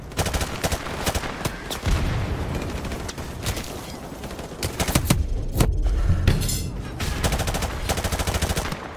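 Rapid gunfire in a shooter video game, with sharp cracks and bursts of automatic fire repeating close and loud throughout, with brief thuds between volleys and no talking.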